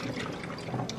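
Heavy whipping cream sloshes inside a lidded jar as it is shaken, a quick run of wet splashing and swishing knocks, close and fairly loud, with no talk.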